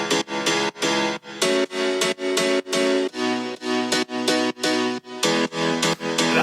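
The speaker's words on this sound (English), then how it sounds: "So the drop pianos all together sound like this." Distorted drop piano from a house music track pounds out rhythmic chords, loud and forward, in choppy repeated stabs with short gaps between them.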